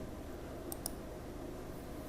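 Two quick, faint mouse clicks sound close together over a low background hiss while moving through an Ubuntu installer on a computer.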